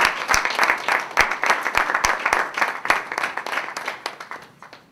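Audience applause at a Congolese independence lecture, a dense steady patter of many hands clapping together, fairly loud and sustained before fading toward the end.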